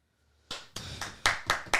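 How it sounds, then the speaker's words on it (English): Six sharp hand claps in an uneven rhythm, close and fairly loud, following a brief quiet moment, with no voices over them. "Claps."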